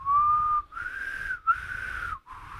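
A person whistles unsteadily in three sustained phrases with short breaks between them, the pitch wavering and slightly airy, close and fairly loud, with no talking.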